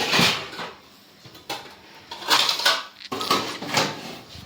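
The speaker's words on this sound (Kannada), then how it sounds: "ನಮ್ಮಮ್ಮ ಪಾತ್ರೆ ಜೋಡಿಸ್ತಾರೆ ಕತ್ಲೆ." Steel vessels being stacked in a home kitchen, with three separate bursts of metallic clattering and clinking, fairly close, and no talking.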